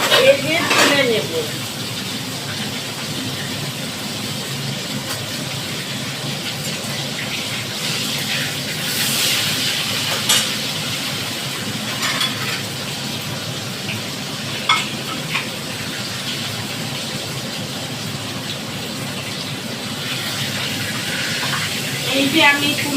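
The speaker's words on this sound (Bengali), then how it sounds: "একে একে ছেড়ে দিয়ে সুন্দর করে আমি ভেজে তুলে নেব।" Foli fish pieces frying in oil, a constant loud bubbling sizzle with bursts of spattering and the knock of pieces being turned, while someone talks over it.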